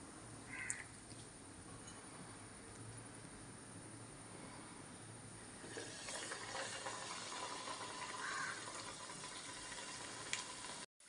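Banana bajji fritters frying in hot oil: a faint, steady hiss that thickens into a fuller, crackling sizzle about halfway through, with no voices.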